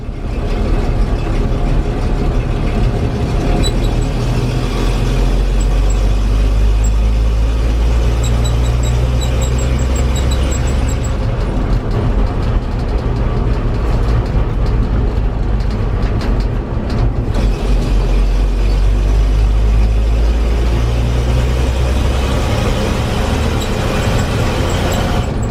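A 1961 GMC 5000 truck with a 351 V6 and Holley carburetor drives around the block, its engine a loud, steady low rumble that rises and falls with throttle over continuous road noise.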